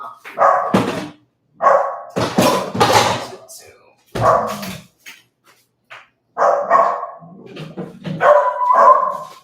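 Dogs barking in bursts close by, sharp repeated barks with short pauses and a few yips, loud and clear with no talk over them.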